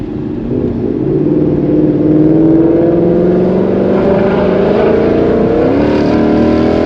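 A Ford Mustang GT engine drones loud and close from inside the car on a bumpy road, its pitch climbing steadily under acceleration, with rev matches on shifts and a brief change in tone near the end.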